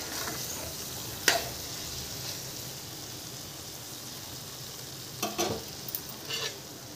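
Tomato masala chutney being stirred in a pan: a soft, steady sizzle with faint scraping, a sharp clink of the spoon early on and a few more scrapes and taps near the end.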